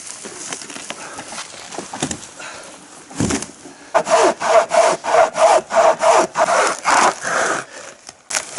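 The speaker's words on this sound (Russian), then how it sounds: "По сути дела, это как двуручная пила, что только в карман можно засунуть" Rhythmic sawing strokes of a pocket chain saw cutting wood, starting irregular then settling into a steady back-and-forth rasp, close and fairly loud.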